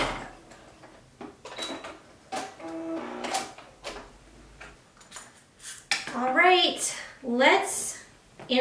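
A sewing machine runs in short mechanical bursts while stitching boho-style pom pom trimmed shorts, close and moderately loud, with someone talking over and between the stitching.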